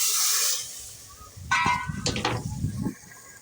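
Fried red chili oil poured into a chicken curry already cooking in the pot gives a sharp hiss and a burst of sizzling that spikes at the pour, crackles loudly for about a second, then eases to a low bubbling.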